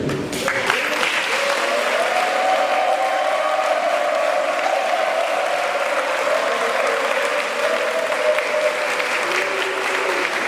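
A general assembly erupts in steady, loud applause while electing a list by acclamation, continuous clapping from a large crowd with a murmur of voices underneath.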